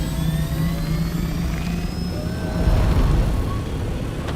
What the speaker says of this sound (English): I just don't want to lose this bloody copter